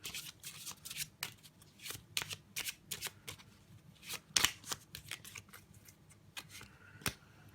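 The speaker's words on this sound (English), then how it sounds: "Spectator would then take the cards and give them a shuffle." A deck of playing cards being shuffled and cut by hand, close up: quick riffling bursts and sharp flicks in an irregular rhythm, fairly quiet, with no talking.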